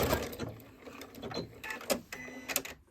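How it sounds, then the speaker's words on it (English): A sewing machine runs a back stitch on a drawstring bag, bursts of rapid mechanical stitching chatter with brief pauses and clicks, close up and moderately loud. "And I'm going to do a back stitch here."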